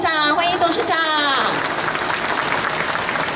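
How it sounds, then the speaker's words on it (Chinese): Applause from a ceremony audience at a stamp issue event in the ground-floor hall of Taipei Main Station. A voice speaks briefly at first, then a dense, steady clapping fills the rest of the clip. "也请各位以热烈的掌声欢迎中华邮政公司欧文琪董事长"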